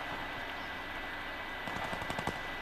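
Automatic gunfire in the Fortnite video game, a quick burst of rapid shots near the end over a steady background wash of game sound.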